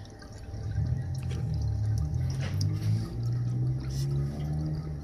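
Dirty, watery engine cleaner and old oil drain from a car engine during a power flush, a steady close trickle and splatter with faint drips running throughout.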